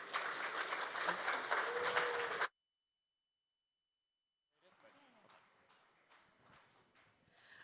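Applause from a conference audience at a crypto market event, a loud burst of clapping for about two and a half seconds, then silence, then fainter scattered claps and crowd noise.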